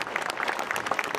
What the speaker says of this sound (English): there was a ripple of applause in its wake